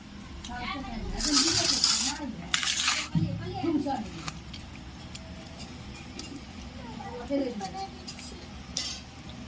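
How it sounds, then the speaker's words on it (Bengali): Sliced potatoes are washed in water in a pot, with sloshing, clinking and rattling against the metal, short bursts of splashing, and a voice talking throughout. "আমি এখানে আরেকবার জল দিয়ে ভালো করে ধুয়ে নেব।"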